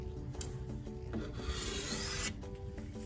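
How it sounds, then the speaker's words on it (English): A knife blade is drawn across the edge of a car in a few alternating rasping swipes, each a gritty scraping stroke, heard up close with no talking. "Just a few alternating swipes to sort out any burr management issues you might be"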